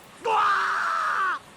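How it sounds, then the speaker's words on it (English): Okuhiko, a character in the visual novel Never 7, lets out one loud, sustained scream lasting just over a second, close up and alone, ending abruptly. "Okuhiko screams."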